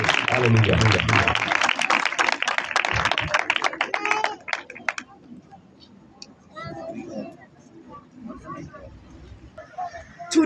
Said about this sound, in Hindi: जोरदार तालियां बजाएंगे कलाम हक के लिए।